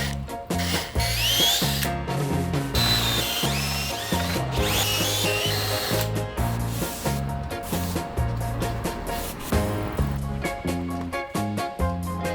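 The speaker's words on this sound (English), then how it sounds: "drill some holes for some wooden plugs" A power drill whines loudly in repeated bursts as it bores holes for wooden plugs into wood, with the motor speeding up and slowing between holes.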